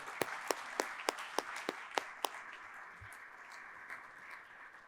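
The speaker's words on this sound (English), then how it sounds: "let's give a big round of applause to all of our sponsors today" Applause for sponsors at a Columbus Metropolitan Club forum on sustainability: a handful of sharp, spaced claps ring out near the microphone over a faint room bed, then fade to quieter scattered clapping.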